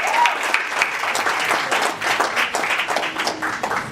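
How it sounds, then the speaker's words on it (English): An audience claps warmly for an all-women flight crew, steady dense applause at moderate volume with a faint voice or two underneath. "Please give them a big round of applause"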